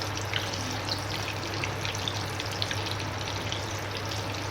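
Potato kachori stuffed with green peas fry in hot oil, giving a steady, close sizzle with dense crackling and bubbling that holds evenly throughout, with no talk.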